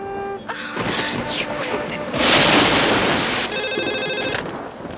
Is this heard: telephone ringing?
yes